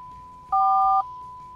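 A 1991 Chrysler Imperial's car phone gives a short electronic power-on beep, a steady tone jumping to a louder, two-tone chirp for half a second, then settling back to a single tone.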